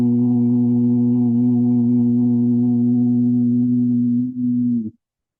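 A steady 130 hertz vibratory hum from a track drones loud and unbroken with rich overtones for about five seconds, wavers briefly near the end, then stops abruptly.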